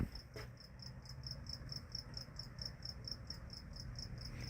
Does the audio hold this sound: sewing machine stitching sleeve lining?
no